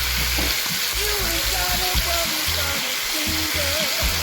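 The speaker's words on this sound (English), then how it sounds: "So I'm putting all the seasoning that I cut up previously in here." Chopped seasoning hits a hot pot for brown stew pork and sizzles loudly and steadily, with a continuous crackling fry and some light stirring and scraping underneath. No voices are heard.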